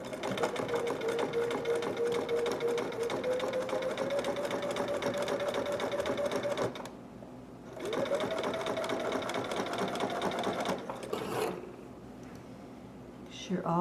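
A sewing machine stitches the seams of a fabric hood in a steady, fast whirring run, pausing briefly around the seven-second mark, then resuming before a short stop and restart near the end.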